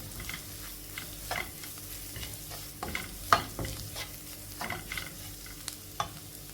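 Masala for kothu chapati is stirred and fried in a pan. A steady sizzle runs under repeated scraping spoon strokes, with no talking.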